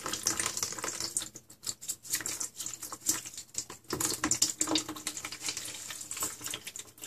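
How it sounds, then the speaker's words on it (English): Water from blended shredded paper pulp drips and patters through a strainer, a steady irregular trickle up close with no talking. "I think you can hear it dripping."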